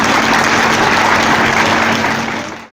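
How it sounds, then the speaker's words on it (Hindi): Loud, dense audience applause at an Indian Christian forum's Independence Day celebration event, a steady roar of many hands clapping that holds throughout and fades out at the end. "जोरदार तालियां"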